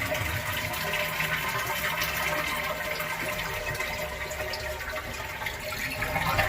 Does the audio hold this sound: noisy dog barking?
no